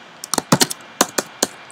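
Keys on a computer keyboard are tapped in a quick, uneven run of about ten crisp clicks, close and clear with no talking.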